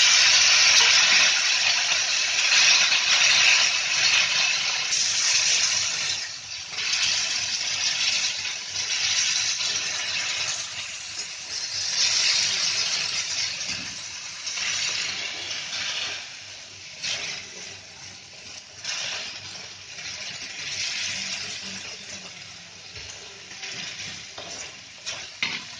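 Chopped tomatoes sizzle in a pan over fried onion and garlic for pizza sauce, a steady loud hiss with occasional stirring scrapes throughout, no talking.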